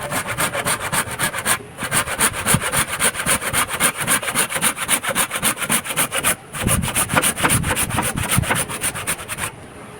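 A hand saw cutting through wood, fast steady back-and-forth rasping strokes close up and loud, with two brief pauses before the sawing resumes, no voices.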